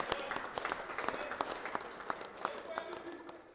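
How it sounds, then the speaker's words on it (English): Audience applause at the closing ceremony of a Canada vs USA college all-star cricket match, scattered individual claps over a moderate crowd patter, under light background murmur. "So big round of applause for him once again for Nikhil Datta."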